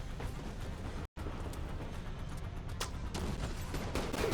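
Sniper rifle fire crackles during a raid in The Division 2 video game, sharp loud shots and bursts of gunfire layered over constant battle noise, with one abrupt brief dropout partway through.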